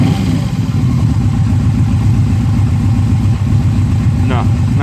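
A 1996 Yamaha Royal Star motorcycle engine idles close by, a loud, steady low throb with an even pulsing rhythm, a brief higher whine near the end.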